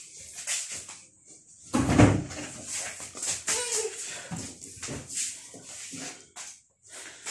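A door or cupboard at a home during a cousin's wedding gathering is opened or closed with a brief knocking thud, set among indistinct background voices and shuffling.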